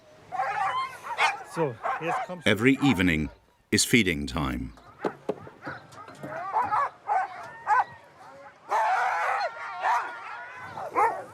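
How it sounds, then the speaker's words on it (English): Pack of Greenland Huskies, an old sled and hunting breed, barking, yipping and whimpering excitedly in a noisy chorus at evening feeding time, with someone speaking over the dogs. "Most of the dogs in the pack are so-called Greenland Huskies"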